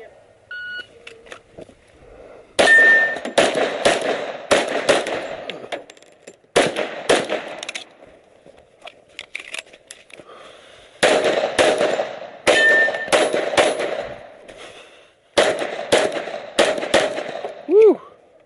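Pistol shots ring out at an IDPA shooting match, sharp cracks in rapid bursts mixed with metallic clangs of rounds hitting steel targets, several strings separated by short pauses, close and loud.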